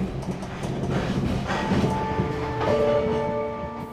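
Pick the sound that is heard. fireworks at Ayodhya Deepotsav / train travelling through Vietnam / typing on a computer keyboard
train travelling through Vietnam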